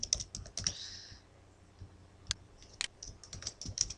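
Clicks of typing on a computer keyboard, close and fairly quiet, in uneven bursts with short pauses.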